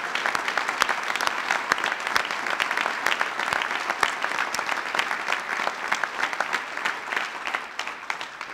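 An audience at a Massachusetts State House ceremony for a children's mental health bill applauds loudly and steadily, with many dense overlapping claps and no voices.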